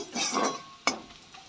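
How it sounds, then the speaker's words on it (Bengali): Sliced onions frying in a pan as a spatula stirs them, a soft sizzling scrape followed by one sharp clink of utensil against the pan. "এটা দিয়ে একটু নেড়ে নেব পেঁয়াজের সাথে"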